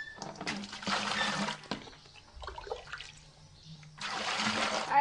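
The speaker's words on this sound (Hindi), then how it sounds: "सबसे पहले 20 लीटर पानी डाल दे।" Twenty litres of water poured into a container to start a cow-dung and asafoetida farm preparation, splashing in two strong bursts with quieter trickling and clunks between them.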